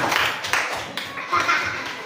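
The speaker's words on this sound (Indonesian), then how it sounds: "tepuk tangan untuk Salpa." A fourth-grade classroom applauds the student conductor after the national anthem: a short burst of many small hands clapping, uneven and fairly close, with children's voices mixed in.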